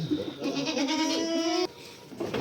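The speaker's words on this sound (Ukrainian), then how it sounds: "Бо це я їх не продаю, це мої кози." Anglo-Nubian goats bleat loudly in a quavering, drawn-out cry lasting over a second, then a brief pause before another bleat begins, close by.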